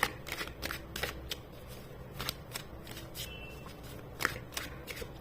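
Tarot cards being shuffled by hand during a reading, crisp riffling and slapping bursts at an uneven rhythm, close and fairly quiet, with no talking.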